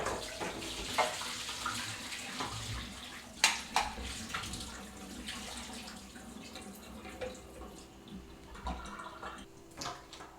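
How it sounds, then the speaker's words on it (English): Eddoes, a taro-like root, rinsed under running tap water in a kitchen sink, with a steady gushing stream and occasional splashes and clunks of handling, no talking. "Then we'll rinse and place it in the boiling water."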